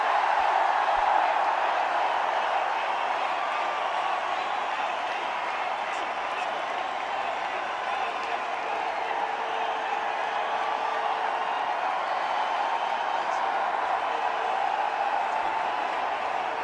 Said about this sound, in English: And he gets an enormous round of applause from players and fans alike.